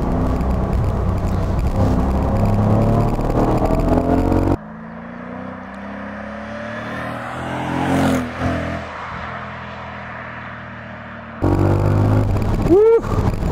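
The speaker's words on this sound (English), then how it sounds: "Oh, that V8 noise with that supercharger is so addicting." Supercharged V8 of a 2004 Mercedes SL55 AMG accelerates hard through a corner after a downshift, a loud rising engine roar with gear changes, heard from inside the car.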